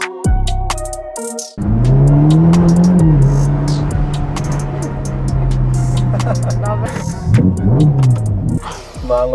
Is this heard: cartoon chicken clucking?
no